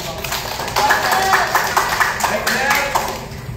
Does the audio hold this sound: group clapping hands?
yes